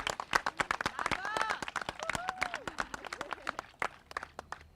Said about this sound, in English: Can we give a big round of applause for the incredible Simmons Marching Band?